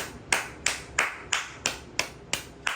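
Rhythmic hand clapping, about eight crisp, evenly spaced claps in quick succession, close and clear with nothing else over them.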